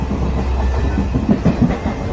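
A train runs along the tracks as a sound effect in a Bengali audio drama, a close, steady rumble with faint clickety-clack beats, heard alone without voices.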